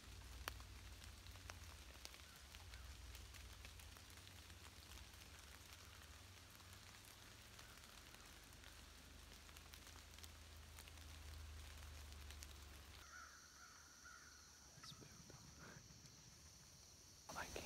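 Steady rain patters continuously at a moderate distance in the woods during early October, a soft even hiss throughout with a faint knock near the end.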